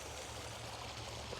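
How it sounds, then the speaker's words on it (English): Backyard recreational pond waterfall flowing with a steady, even rush of splashing water, soft and continuous with no voices. "And then we got our first waterfall up top here."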